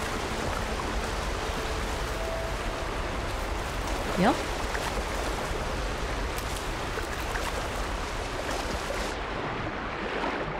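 Steady rushing roar of a waterfall in the video game Horizon Forbidden West, a constant broadband wash of water with a person talking briefly over it.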